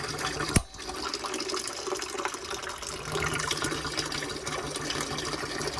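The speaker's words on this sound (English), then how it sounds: "Drains a lot faster." Water drains steadily from a small 6-gallon electric water heater tank into a bucket with the pressure relief valve open, a continuous close splashing gush after a brief knock at the start.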